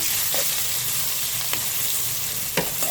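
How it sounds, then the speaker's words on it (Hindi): About a bowl of chopped onions frying in oil with asafoetida in a pan for dhaba-style dal tadka: a steady close sizzle with a few sharp spoon scrapes and clinks as it is stirred. "प्याज डालेंगे, प्याज 1 कटोरी डाल रही हूँ।"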